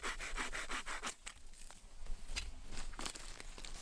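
A survival saw blade mounted on an aluminum handle cuts through wood in quick rhythmic back-and-forth rasping strokes, close and steady, with no talk.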